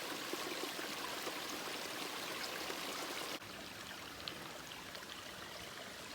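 A steady stream flows at a water stop on a hiking trail, a continuous close wash of running water that drops slightly in level partway through, with no voices.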